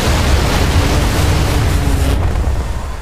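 High-explosive incendiary 30mm rounds from an aircraft cannon burst in a DCS World combat game, a heavy rumbling explosion roar that fills the clip and then cuts off sharply near the end.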